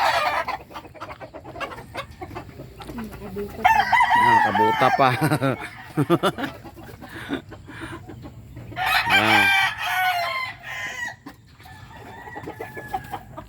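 Chickens cluck around a backyard feeding spot while a rooster crows loudly and repeatedly, with brief Filipino speech mixed in among the bird calls.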